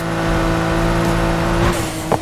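A stock Nissan Skyline GT-R in the racing game Need for Speed Heat holds a steady, loud engine note with rising revs, shifting pitch midway and sweeping upward near the end, heard alone.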